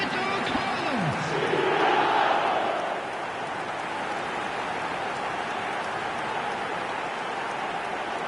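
Stadium crowd in the eFootball 2025 football video game roars in a broad, continuous wash of noise, swelling louder for a moment and then holding at a steady, dense level.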